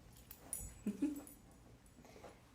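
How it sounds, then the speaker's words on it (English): Two excited puppy dogs whimper and yip indoors, giving a few short, thin whines and soft scuffles close by, mostly quiet between bursts. "these are my two puppy dogs, Moose and Wookie"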